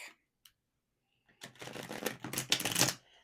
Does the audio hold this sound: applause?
no